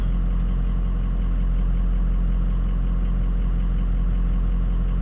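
A 2004 Ford F250 with a 6.0 Powerstroke diesel idles close by, giving an unbroken, even low rumble throughout.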